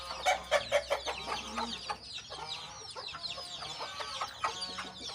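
A hen and her chicks peck at watermelon on a poultry farm, with soft repeated clucks and chirps and scattered pecking taps nearby; no one speaks.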